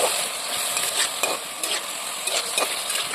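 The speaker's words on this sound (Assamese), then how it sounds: "এনেকৈ কিছু সময় ভাজিব লাগিব" Sweet chicken sauce with capsicum and tomato frying in a pan hisses steadily while a spoon scrapes and stirs in periodic strokes, close and fairly loud, with no talking.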